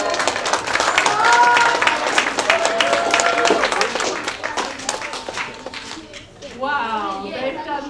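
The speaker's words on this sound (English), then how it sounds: "The kids in this group, they all deserve a round of applause for sure." Audience applause after a sixth-grade student group presentation, a dense patter of many hands that sustains for several seconds, then fades as a voice begins speaking at the end.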